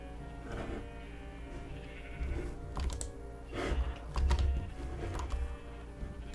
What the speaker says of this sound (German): Hier sind unsere schönen lilanen Schafe.